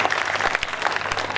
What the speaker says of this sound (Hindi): वंस मोर के लिए ताली बजाएं